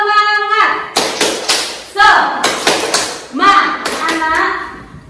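A classroom of elementary school children performs the rhythmic 'tepuk semangat' clapping chant, with bursts of sharp, patterned claps alternating with chanted voices in several short phrases.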